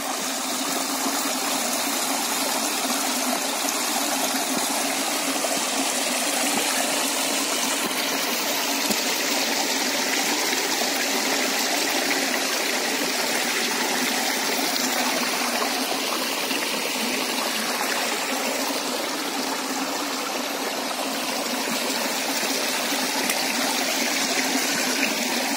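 Mountain river in the Carpathians rushing over rocks, a loud, continuous broadband roar of flowing water that holds steady throughout with no voices.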